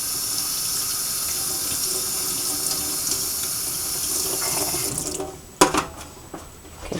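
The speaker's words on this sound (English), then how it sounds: "This is really cold water. You could use ice water." Cold water runs steadily from a kitchen tap while butter is rinsed of whey, a constant hiss for about five seconds, then stopping with a few clattering splashes and knocks in a sink.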